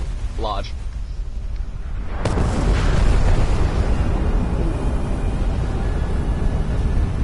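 A nuclear mushroom-cloud explosion in the video game Fallout 76 erupts after a brief sweeping tone, then a loud sustained deep rumbling roar continues to the end.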